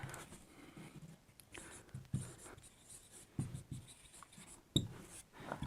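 Pen scratching across paper in short irregular strokes with pauses between, close and fairly quiet, with a few louder taps, during a class 11 physics lesson.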